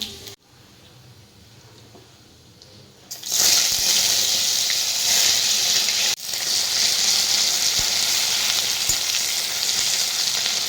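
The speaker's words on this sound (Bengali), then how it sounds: "দিয়ে দেবো তেলের মধ্যে পাঁচ ফোড়ন আর এই মাছের ডিমটা" Fish roe and five-spice seeds hit hot oil with a loud, sustained sizzle that starts abruptly after a quiet moment and stays strong, with a brief dip midway and faint stirring taps, no talking.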